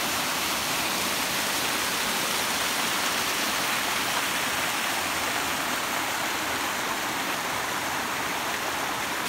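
A waterfall pouring into a pool at Himamawo Spring in Ibaan, Batangas, a steady, loud, close rushing roar of falling water with no pauses and no voices.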